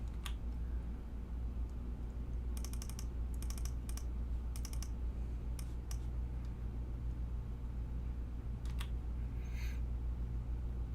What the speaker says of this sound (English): It's got to be quick on the down arrow and the clicking.